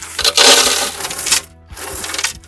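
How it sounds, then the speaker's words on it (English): Gravel spills into a planting container for a topiary, forming a 2 to 3 inch drainage layer, heard as two close, loud bursts of rattling, clattering stones with a short pause between them. "So we got this gravel, guys. We're gonna put about a 2 to 3 inch layer on the bottom."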